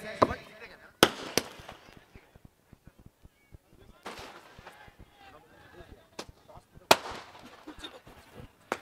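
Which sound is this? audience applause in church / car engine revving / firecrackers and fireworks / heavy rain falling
firecrackers and fireworks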